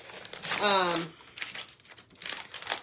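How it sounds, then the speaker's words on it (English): A thin sheet pulled away from its backing with a crinkly, tearing peel in one steady burst, followed by quieter rustles of handling and a couple of softer crinkles near the end. "So I'm just going to peel this away."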